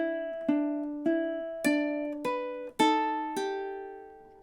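Ukulele picking single plucked notes of a song, including an open G, six or seven bright, evenly spaced notes each ringing and decaying before the next, close and clear with no talking.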